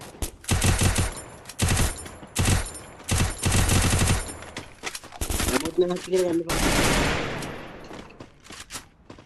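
Automatic gunfire in the Free Fire video game rattles in rapid bursts and single shots, loud and close, with a brief pause between volleys, while players talk over the shooting.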